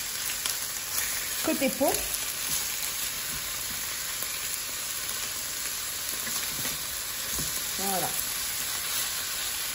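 Fish fillet sizzling steadily in a pan after being flipped once its underside has browned, a continuous frying hiss with brief soft clinks, while a voice speaks briefly over it.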